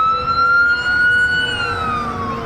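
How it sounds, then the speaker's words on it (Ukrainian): A fire engine siren wails loudly and steadily on a city street in Canada, its pitch slowly rising and falling over low traffic rumble, close and continuous. "Ззаді знову пожарна, а з тої сторони зараз далеко."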